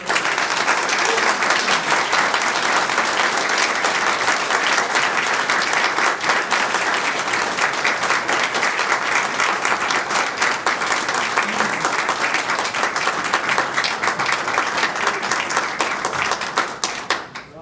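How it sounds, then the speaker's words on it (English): An audience gives steady, dense applause to honored police officers and dispatchers at a ceremony in Saline. Many hands clap evenly and loudly for about seventeen seconds, and the sound fades slightly at the very end, with no voices on top. "Please give them a round of applause."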